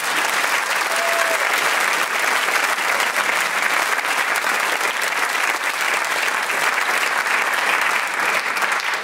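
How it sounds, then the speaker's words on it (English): A studio audience at a radio theatre quiz show breaks into sustained, even applause that stays loud and dense throughout, with no talking over it. "you can earn from all of us here at the Radio Theatre this riotously festive round of applause."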